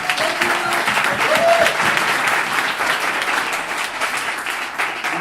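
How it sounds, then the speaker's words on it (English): Sustained audience applause at a DemoJam tech conference event, dense steady clapping from a large crowd throughout, with a faint cheer or whistle early on. "One more round of applause"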